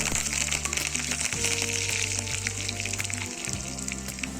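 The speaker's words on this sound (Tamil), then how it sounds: "கடுகு, உளுந்தம்பருப்பு, ஜீரகம், சிவப்பு மிளகாய், கொஞ்சமாக கருவேப்பிலை இது எல்லாத்தையும் போட்டு நம்ம தாளித்து விட்டுக்கலாம்" Mustard seeds, urad dal, cumin, dried red chilies and a few curry leaves are tempered in hot groundnut oil, giving a soft, steady crackling sizzle with faint spattering and a low tonal hum behind it.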